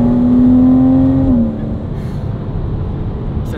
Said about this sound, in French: C'est tellement drôle de voir le son qui vient de derrière du moteur.